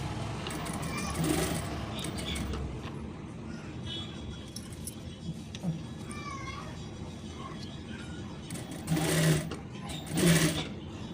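A tailor shop sewing machine stitches cloth with a steady mechanical whir, punctuated by brief louder bursts of running, while people talk nearby in the background.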